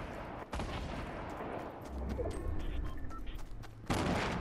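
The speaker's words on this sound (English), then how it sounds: "they're throwing grenades back" Grenade explosions in the video game Fortnite, heard as bursts of blasts and rumbling booms mixed with gunfire, fairly quiet and continuous, with sharp louder hits at the start and end.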